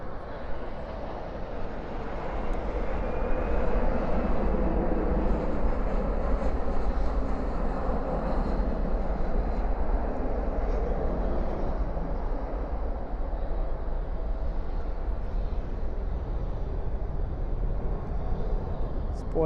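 An airliner landing at night at Dallas Fort Worth airport with spoilers up and thrust reversers deployed gives a steady, loud broadband roar that holds for the full stretch without fading.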